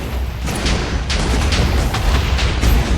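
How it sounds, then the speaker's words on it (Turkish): Explosions in Minecraft, set off as blocks hit a wall, merge into a loud, continuous rumbling roar with repeated booming bursts, dense and close, with no speech. "Bunlar duvara değdikleri anda patlayacak"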